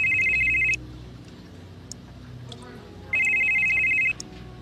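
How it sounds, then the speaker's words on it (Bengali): A telephone rings as a sound effect in a Bengali detective audio drama. It gives two loud electronic trills separated by a quiet gap, up front and clear, with faint background sound between them. "এমন সময় ওর ফোনটা বেজে উঠল"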